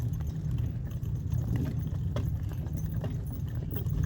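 Hooves of donkeys clip-clopping steadily on a drive, a soft rhythmic plodding under a low constant rumble, fairly faint with no talking.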